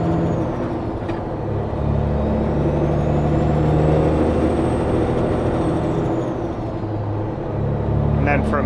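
A semi-truck diesel engine rumbles steadily from inside the cab, its drone rising and falling as the driver splits fourth gear on the way up to fifth, with a brief hiss near the end.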